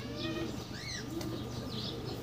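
Rapid wing flaps of a racing pigeon taking off or landing, brief fluttering bursts over steady outdoor background noise, with faint bird calls.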